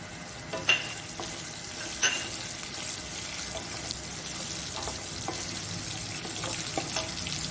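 Curry leaves and chili pieces fry in hot oil for upma, giving a steady close sizzle with a few sharp clinks and stirring scrapes on top.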